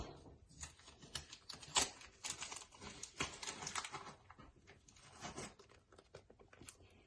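Packing tape being peeled off a postcard at a craft table, heard as close, uneven crackling and ticking rips spread across several seconds, fairly quiet throughout.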